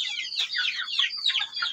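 Native chickens cluck close by in a quick series of high, chattering calls that follow one another without a break.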